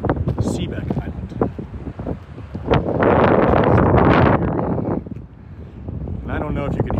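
Gusty wind buffets the microphone outdoors beside a river channel in a small town, swelling into a loud steady roar midway while someone talks intermittently over it.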